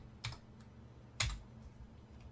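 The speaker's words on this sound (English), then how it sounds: "type in on your numpad 180" Two quiet, separate key clicks sound from a computer keyboard numpad as a number is typed, in an otherwise near-silent room.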